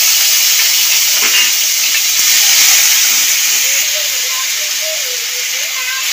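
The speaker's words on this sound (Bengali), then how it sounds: "আগে থেকে বেটে রেখেছিলাম কাঁচা লঙ্কা আর আদা দিয়ে দেব।" Ginger and green chili paste sizzling in hot oil for a vegetable chop filling, a loud, steady hiss of frying that fills the whole stretch with little variation.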